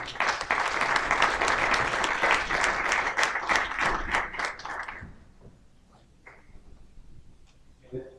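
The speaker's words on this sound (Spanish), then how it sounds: "Reiteremos nuevamente su presencia por un aplauso." An audience at a formal academic and religious gathering gives a full round of applause that fills the room for about five seconds, then fades into scattered claps and quiet room tone.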